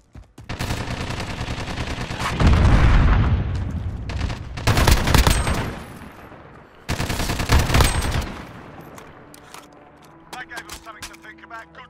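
Full-auto bursts from Modern Warfare in a 2v2 alpha match hit hard, with long rapid strings of fire and booming echoes in several loud waves. The firing then fades to scattered quieter clicks and effects.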